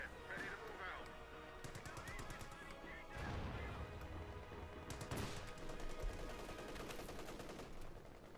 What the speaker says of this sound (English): Machine gun routing a section in the centre on the west side again